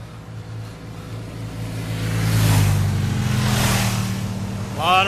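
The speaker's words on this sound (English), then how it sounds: "A lot of motorcycles." Several motorcycles pass along a road near Maggie Valley, North Carolina, around a small biker rally weekend; a rising engine roar builds and swells mid-clip before fading, with another bike approaching at the end.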